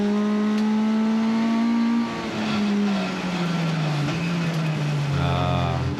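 A race vehicle at the Ledenon circuit, its engine note falling steadily as it brakes hard from high revs, loud and close, then picking up again with a short rising burst toward the end.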